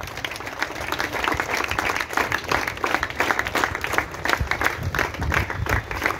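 Many people applaud at a district football competition event, a thick, sustained patter of clapping hands that swells slightly, steady and fairly close, with a low rumble of crowd beneath.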